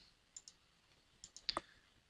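A computer mouse clicks while a view is shaded in CAD drawing software, giving a few quiet, sharp clicks, including a close pair near the end, over near silence.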